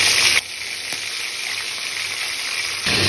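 Fresh fish sizzles steadily in hot oil in a pan, a loud continuous crackling fry with slight shifts in intensity and no voices.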